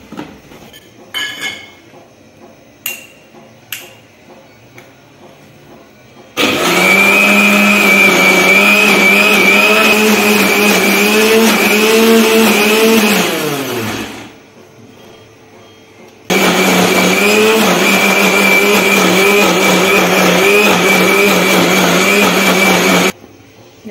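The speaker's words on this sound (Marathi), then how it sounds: "ते मिक्सरमध्ये फिरवून घेते मी।" A mixer grinder churns malai cream with water to make ghee, a loud steady whirring motor running about eight seconds, stopping, then starting again after a pause, with faint clinks before the first run.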